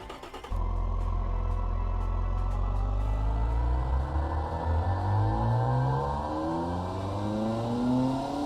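Simulated car engine with a carbon fiber intake manifold revving up in the Automation game, starting abruptly and climbing steadily in pitch with rising harmonics, loud and close, alone without talk.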